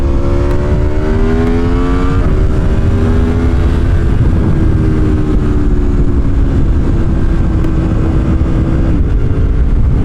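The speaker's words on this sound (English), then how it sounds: "That full Acra is just unleashing this beautiful V4." A 2021 Aprilia Tuono 1100 Factory V4 naked motorcycle with a full Akrapovic exhaust revs hard and loud, a deep throaty exhaust roar rising and falling in pitch for the whole stretch, with no talking.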